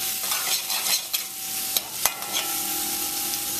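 Finely chopped garlic sizzles in oil in a pan over low heat, a steady close hiss with a few soft pops and light clatters, no voices.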